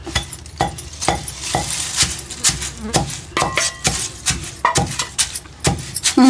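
Curry leaves crackle and sizzle in a hot pan as sharp pops and utensil scrapes land in an irregular rhythm over a softer frying hiss. The sounds are close and fairly loud.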